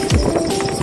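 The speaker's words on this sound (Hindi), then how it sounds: "देखिए 2 लोग हैं और घोड़ा दौड़ा रहे हैं" A horse runs across the Munger bridge, hooves giving quick, loud clip-clop beats close by over a short burst.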